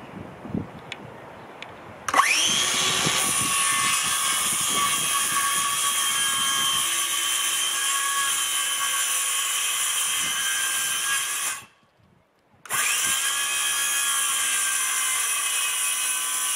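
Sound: power tool cutting boxing for radiator pipes

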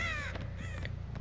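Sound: crows cawing in the video game Dead By Daylight

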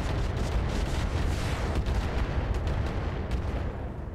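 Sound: missiles being fired in a video game

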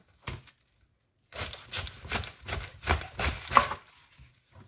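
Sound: shredding green papaya into strands

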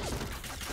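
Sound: gunshot scoring a headshot in a video game (Point Blank)

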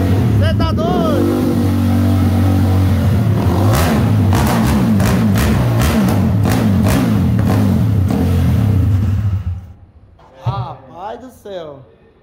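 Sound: 190cc motorcycle engine revving during test ride

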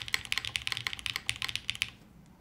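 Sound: typing on a mechanical keyboard, spacebar

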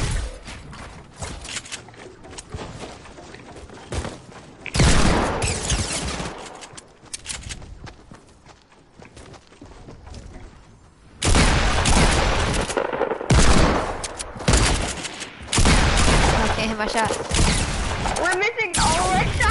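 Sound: gunfire in a video game

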